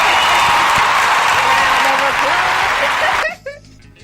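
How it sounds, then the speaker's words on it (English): Applause for a man named Anthony on an internet show: a dense burst of clapping and crowd noise lasting about three seconds, then cutting off abruptly into quiet. "let me give him some hand claps. A round of applause"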